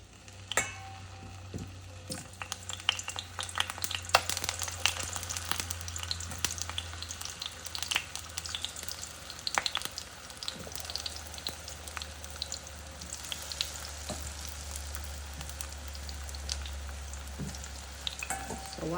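Green plantain slices frying in hot oil, a steady dense crackling sizzle with scattered pops and sputters throughout, close and moderately loud, no voices.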